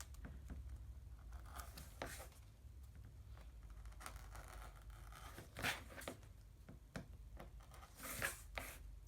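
Scissors trim the overhanging lining fabric of a bifold wallet before sewing, making faint, close snips and soft fabric rustles in an irregular rhythm, with no talking.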